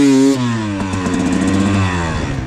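A dirt bike engine revs hard at full throttle in the badlands, with a high buzzing whine that holds steady and climbs slightly as it launches on sand, loud and close, with no talking.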